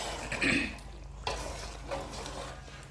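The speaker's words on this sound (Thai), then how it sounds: "แล้วก็คนนะคะคน" A spoon scrapes and stirs chicken feet inside a cooking pot, with a few distinct strokes over a soft background sizzle.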